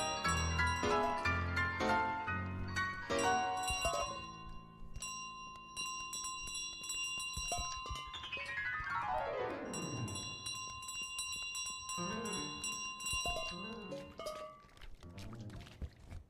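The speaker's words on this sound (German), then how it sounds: "jeder bemerkt sofort, dass ich die Glocke in der Hand habe, im Maul habe" Brass bell clanging and jingling as a goose carries it in its beak in Untitled Goose Game, ringing repeatedly over cheerful piano music with a sliding glissando, then tinkling again near the end.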